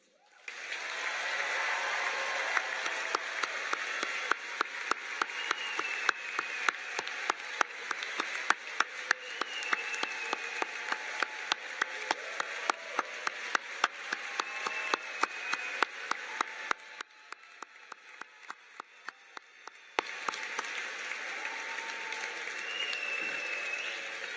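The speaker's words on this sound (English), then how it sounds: "Round of applause." Sustained applause from a large audience at a white coat ceremony for osteopathic medical students, with steady crowd clapping and sharper individual claps near the listener, a brief dip, then renewed clapping.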